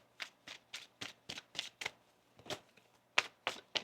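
Tarot cards being shuffled by hand in about a dozen crisp, evenly spaced riffling bursts, close and fairly quiet, with no talking.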